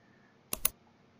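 Two quick, sharp clicks of a computer mouse in a row, close and crisp against a quiet background.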